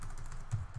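Rapid keyboard typing on a computer, a steady run of close, soft clacks with one slightly heavier keystroke midway, heard alone.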